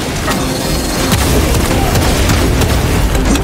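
A grenade blast in Warhammer 40K: Space Marine 2 lands among loud, dense game combat noise, with booming impacts and sharp cracks layered over a constant heavy rumble.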